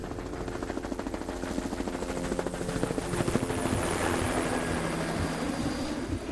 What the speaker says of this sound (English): Is that a plane that I hear?